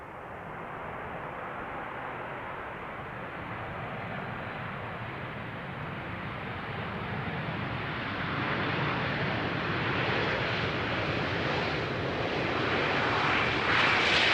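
A Vueling airliner landing on runway 18R at Amsterdam Schiphol makes a broad jet rumble that grows steadily louder and brighter as it approaches, ending at its loudest.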